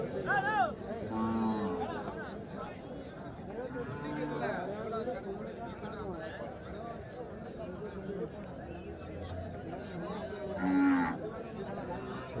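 Cattle mooing at the Kundharapalli cattle market, where large plough bullocks are sold in pairs, with lowing calls rising over steady crowd chatter and people talking throughout.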